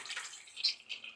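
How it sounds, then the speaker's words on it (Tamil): A slow, thin trickle of water from a tap, a soft close patter with small splashes over about a second, faint and alone. "இது என்னடா இது கருமம், தண்ணி இப்படி வருது"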